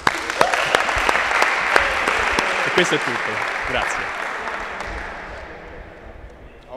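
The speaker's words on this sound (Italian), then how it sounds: "un applauso" Applause for a volleyball team celebrating promotion to Serie D, a dense, loud wash of many hands clapping with a few sharp claps standing out, tapering slightly near the end while a voice speaks briefly over it.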